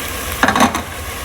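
Onions turning golden in a pan for chicken makhni, giving a brief stirring scrape over a soft sizzle that lasts under half a second, then fades back to quiet.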